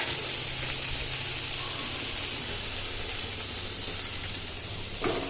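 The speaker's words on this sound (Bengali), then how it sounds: "এখন এদিকে করলাগুলো ভাজছি" Bitter gourd sizzles steadily in a pan of hot oil, a loud, even hiss and crackle close up, with a brief clatter near the end.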